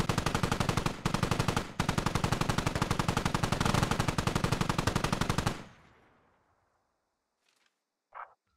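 Sustained suppressing machine gun fire in a tactical military video game: loud, rapid, evenly spaced bursts with two brief pauses, then the shots cut off into a fading echo, followed later by a short distant thump.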